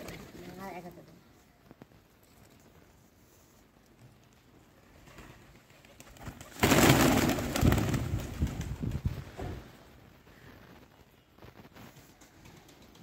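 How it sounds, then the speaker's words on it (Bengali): Pigeons on a tin roof coo softly amid faint outdoor wind, with a louder burst of noise midway and a person speaking nearby. "এই যে টিনের ছাদে এখনো 3টা কবুতর আছে।"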